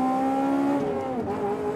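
A Mugen-tuned Honda Civic Type R engine revs high and hard, a steady tonal whine that dips and shifts pitch as the car drives, loud and close with no talk.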